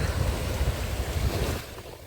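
Sea waves washing onto a Black Sea shore in winter, a steady rolling surge with gusty wind buffeting the microphone, fairly close and continuous with no voices.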